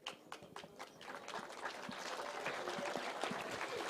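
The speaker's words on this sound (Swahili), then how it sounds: "Makofi jamani." An audience at a live political address in Kenya claps, a dense patter of applause that swells and holds steady, heard moderately close without speech over it.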